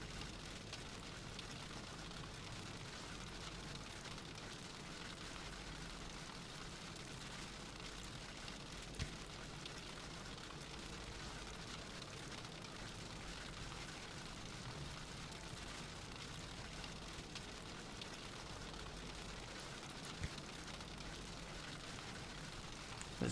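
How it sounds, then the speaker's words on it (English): Rain falling in the airport-building video game Airport CEO, a quiet, steady hiss of rainfall with occasional faint thumps, continuous and without speech. "We've got rain."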